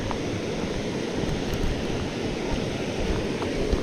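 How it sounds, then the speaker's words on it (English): Steady broadband rushing of river water flowing at the San Gabriel Valley River, loud and continuous with outdoor wind, no voices. "So this is the water right here. San Gabriel Valley River."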